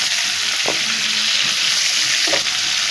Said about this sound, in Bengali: মাংসটার গায়ে একদম লাল লাল টাইপের দাগ চলে এসেছে ভাজা ভাজা পুরো পুরো একটা ভাব চলে এসেছে